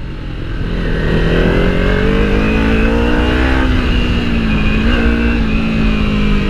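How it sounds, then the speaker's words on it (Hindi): Kawasaki Ninja 300 and other motorcycles riding off-road on dirt, engines droning loudly and close with steady revving pitch that rises and wavers, several bikes blending together without talk. "यहाँ पे मिट्टी उड़ाते हुए सारी बाइक्स आगे की तरफ जा रही है"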